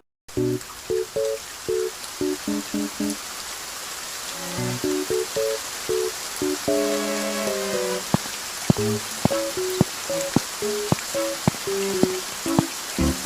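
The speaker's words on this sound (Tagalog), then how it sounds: "Gagi, lakas ng ulan." Heavy rain pours in an animated scene, a continuous hiss under a pattern of short plucked musical notes and chords that repeat throughout.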